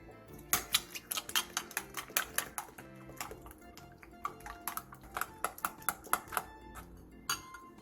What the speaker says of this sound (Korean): 볼에 당근, 쪽파, 계란 3개, 소금 4분의 1티스푼을 넣고 골고루 섞어주세요